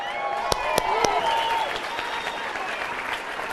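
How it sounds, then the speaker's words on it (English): A large seminar crowd applauds steadily, a broad, even clapping wash at moderate loudness, with a few sharp louder claps near the start and a voice sounding briefly over it. "give them a round of applause"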